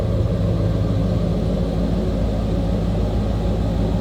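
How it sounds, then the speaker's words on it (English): A 1995 Chevrolet Silverado K1500 4x4 pickup idles steadily, its engine giving a low, even rumble, close and continuous with no talk. "Hear it run a little bit better."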